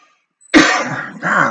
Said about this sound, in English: golly, I get to coughing